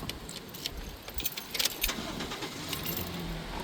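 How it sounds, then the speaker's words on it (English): Car keys jangle in short metallic bursts as they are passed from one hand to another inside a parked car, clustered around the middle over a steady low cabin rumble. "I give my wife the car keys to the car."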